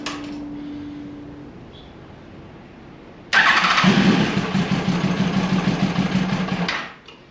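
A 2002 Yamaha FZ1 1000cc motorcycle, unstarted for eight years, fires on starter fluid after a quiet stretch. It catches abruptly into a loud, close, rough-running engine roar, holds for about three seconds, then dies away.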